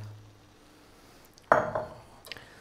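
A spoon knocks once against a pot and then stirs briefly as coconut milk is mixed into chana dal with tomatoes, followed by a couple of faint clinks in a quiet kitchen.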